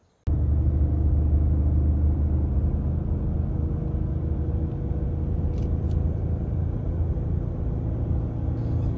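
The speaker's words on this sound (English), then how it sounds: "the engine is comfortably working at 2200 RPMs, although the transmission did drop to the 8th gear to hold 70 miles an hour" A Ford F-150 pickup towing 13,000 lbs cruises on the highway at 70 mph, its engine at 2200 RPM in eighth gear, giving a steady, loud, low drone and road rumble that runs unbroken with no talk.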